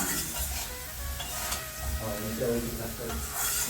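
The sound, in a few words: potatoes frying in a pan for fish curry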